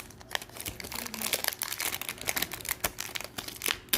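Packaging on a perfume box crinkling and crackling during unboxing: dense, irregular close-up rustles and sharp crinkly snaps throughout, fairly quiet, with no talking.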